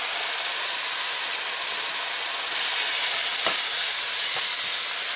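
Pre-cooked cooled rice stir-fried Thai style in a hot pan, a loud continuous sizzle close by with a couple of sharp scraping stirs, no talk.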